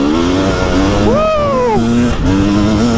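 Two-stroke enduro motorcycle engine revving hard and close, pitch sweeping up and falling back in a sharp blip before settling into a steady high drone, loud throughout.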